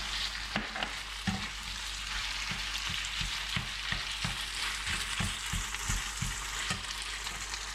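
Kung Pao chicken is stir-fried in a wok with peanuts tossed in. A steady sizzle runs underneath while a spatula scrapes and clacks in a rhythmic series of close, sharp strokes, with no voices.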